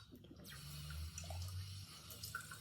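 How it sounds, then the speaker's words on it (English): Tap water runs steadily into a sink as chemistry glassware is rinsed out, a continuous close splashing flow that carries on for a couple of seconds without talk. "Just give that a rinse out."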